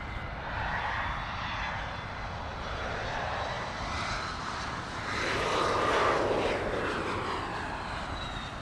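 Jet airliner engines roar at LAX airport, a steady, loud, broad rumble from a passing aircraft that swells briefly midway and fades slightly toward the end.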